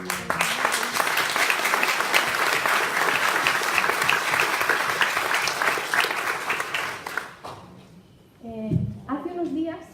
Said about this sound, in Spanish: Y yo quisiera pedirles ahora un aplauso por las mujeres de provincias que están trabajando.